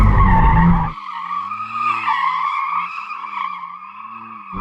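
A McLaren Artura slides in a drift with variable drift control engaged: a loud wavering tire squeal is sustained over several seconds, after a brief burst of engine and road roar at the start.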